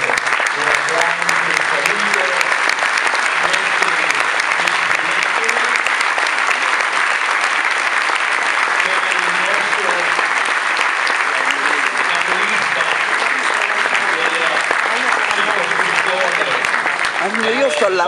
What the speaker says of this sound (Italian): quindi per favore portate un applauso